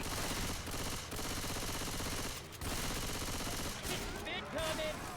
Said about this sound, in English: Going with machine gun.